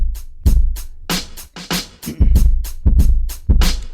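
A dry, unprocessed drum track plays a steady groove of punchy kicks, snare hits and hi-hat ticks, loud and close with no added effects.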